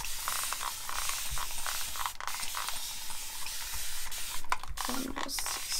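A spray bottle mists water onto hair in several short hissing bursts, close by and fairly quiet, with small handling noises between sprays.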